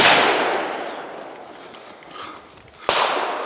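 At a shooting range, a gun fires two loud, close sharp reports a few seconds apart, each with a long decaying echo.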